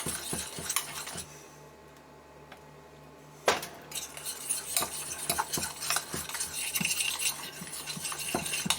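Scrambled eggs being whisked in a pan: a busy run of metal scraping and tapping against the pan over a light sizzle, pausing briefly and then resuming with a sharp clink, close and fairly lively.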